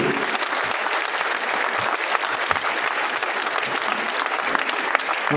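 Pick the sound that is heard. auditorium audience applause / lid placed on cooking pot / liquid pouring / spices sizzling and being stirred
auditorium audience applause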